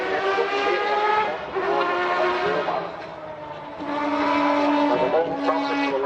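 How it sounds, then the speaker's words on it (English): A race car engine with variable length intake trumpets revs hard and loud, its harmonic howl climbing and falling through gear changes, briefly dipping before surging again. "It's such a responsive engine, and I think this has got the variable length intake trumpets"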